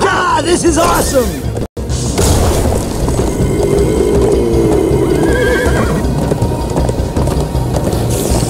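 Galloping hooves clatter steadily in a Minecraft Story Mode chase, with a sharp whinny near the start and excited voices calling out over the loud rush of horses.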